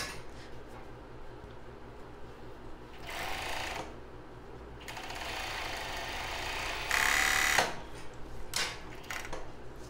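A sewing machine stitching a seam on a children's bra, a close mechanical whir in bursts of several seconds that rise and fall as the stitching speeds up and pauses, with small clicks between runs.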